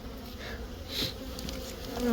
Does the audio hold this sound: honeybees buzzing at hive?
yes